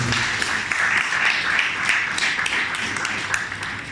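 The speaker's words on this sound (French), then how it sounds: "Je vous demande d'applaudir." Applause from an audience at a review event, steady dense clapping throughout with a fairly constant level.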